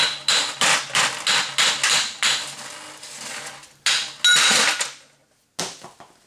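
A hammer taps on a gear during a Dana 44 axle rebuild and re-gear, a rapid series of sharp metallic strikes close by, then a few louder spaced blows with short silences between.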